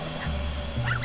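Badger whimpering in a public indoor shelter setting, a few short whiny yips close by against low background noise, with no talking.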